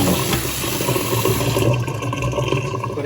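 Running water pours and splashes steadily as blanched broccolini is cooled in cold water in a home kitchen, a loud continuous rush that eases slightly toward the end, with no voices over it.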